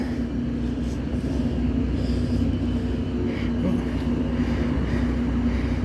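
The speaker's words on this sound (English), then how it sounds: "my train should be pulling in" A London Underground tube train pulling into the station: a loud, steady low rumble and rolling hum that continues throughout without letting up.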